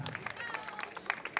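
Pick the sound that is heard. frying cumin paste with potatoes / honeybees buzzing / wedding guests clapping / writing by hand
wedding guests clapping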